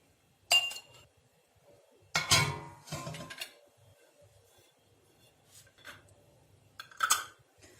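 A metal lid being screwed tightly onto a glass jar of homemade quince jam, giving sharp clinks and scraping twists in a few separate bursts with quiet gaps between, close and clear, no talking.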